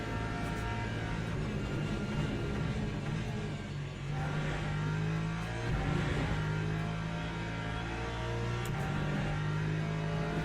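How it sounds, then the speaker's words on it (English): LMP2 race car engine in Le Mans Ultimate, a steady humming engine drone with rising and falling pitch as it accelerates, moderately quiet throughout. "here comes the back marker in LMP2, probably to cause havoc."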